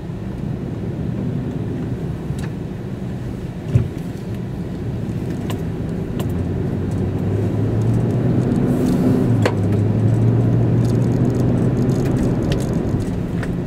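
A car drives steadily with a low, continuous road and engine rumble from inside the cabin, brief light rattles now and then, and no talking.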